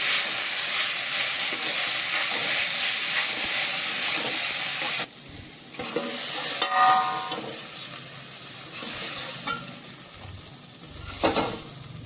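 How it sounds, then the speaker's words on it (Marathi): Grated pumpkin sautés in hot ghee in a kadhai, giving a loud, steady sizzling hiss with steam that drops sharply after about five seconds. A quieter, uneven frying crackle and occasional stirring clatter follow. "त्याचा कच्चेपणा मोडण्यासाठी आपण हा भोपळ्याचा किस हा परतून घेणार आहोत"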